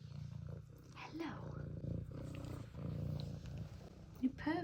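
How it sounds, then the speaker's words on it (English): A domestic cat purrs loudly up close, a steady low rumbling that runs continuously and fills the quiet room, with a brief rustle near the end. "You purr very loudly."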